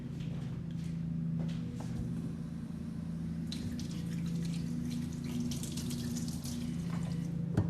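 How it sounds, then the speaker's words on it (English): Water runs from a tap while hands are rinsed, with a steady, fairly quiet stream and a few splashes and clinks over the top, no speech. "Now, just gonna rinse my hands and be right back."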